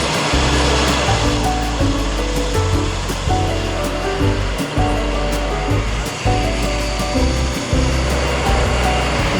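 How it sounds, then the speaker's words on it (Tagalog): A grinding machine at a bahay kubo camp runs continuously, a loud steady roaring whir with shifting tonal layers and brief dips. "Ito na yung gilingan. Grinding machine."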